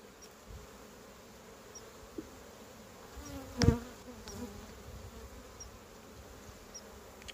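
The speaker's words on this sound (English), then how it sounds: "these bees are just kicking it, cleaning it." Honeybees hum steadily inside an opened hive box during a spring split, a continuous low drone with a brief louder burst near the middle and no talking.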